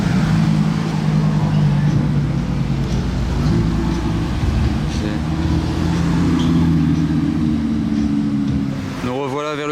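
Three supercars pass in a convoy through the streets of Monaco, their engines a loud sustained rumble that rises and holds with strong low tones, ending in a sweeping revving tone, while a voice speaks over them.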